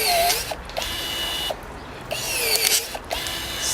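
Budget hand pruners working through a three-quarter inch branch: a few close, crisp snapping and creaking cuts with short squeaky mechanical clicks between strokes.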